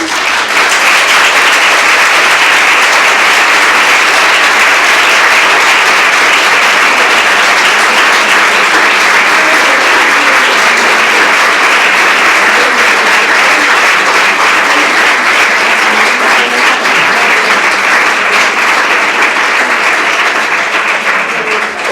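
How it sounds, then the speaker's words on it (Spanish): Loud, dense audience applause fills a hall after a Spanish science lecture on the nervous system, a continuous even roar of many hands clapping for over twenty seconds with no pauses. "el aplauso también, sobre todo para Ana"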